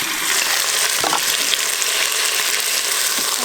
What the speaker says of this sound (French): Là ils sont en train de dorer dans la cuve du Cookéo avec un petit peu d'huile d'olive.